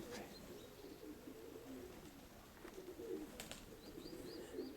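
A domestic pigeon coos softly, faint low calls repeating under steady background noise, with light chirps from other birds in the distance.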